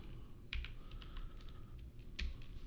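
Sparse, faint clicks of typing on a computer keyboard, a few scattered keystrokes with brief gaps, over a low background hum.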